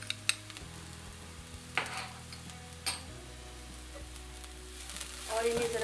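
Chopped ginger, about a tablespoon, goes into a pan of hot oil with cumin for eggplant raita, giving a soft steady sizzle with a few sharp clinks of a spoon against the pan.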